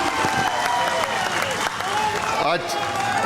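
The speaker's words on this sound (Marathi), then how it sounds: "हात वर करायचा, जोरदार टाळी" Loud applause from a large audience at a Shiv Sena district rally in Satara, dense and continuous, with speech and crowd noise mixed through it.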